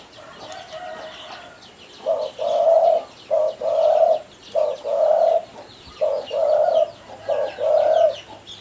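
A spotted dove kept as a pet bird coos close by in a run of repeated, rhythmic phrases, each a low mellow coo, loud and clear with no talking.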